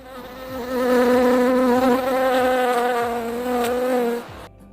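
Steady, droning bee buzz with a bright whine, continuous and close for about four seconds before cutting off abruptly.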